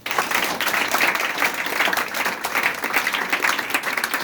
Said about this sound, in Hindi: आप अपने देश के लिए ताली बजाइए